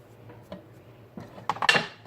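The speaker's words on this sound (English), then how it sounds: "So mix your milk and cocoa powder" Milk and cocoa powder are stirred together in a bowl for a chocolate cake, giving a few soft clinks and scrapes of a utensil against the bowl that build into a louder cluster of clatter near the end.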